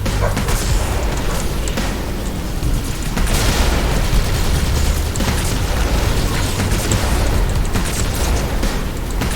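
A fast-firing Wraith tank in Halo 2 launching shots amid a constant roar of loud booming explosions, with blasts piling up densely over a rumbling low end throughout.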